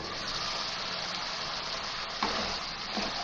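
Minced meat (keema) with green chillies frying in a pan, cooking down until dry: a quiet, steady sizzle with a couple of faint clicks near the end.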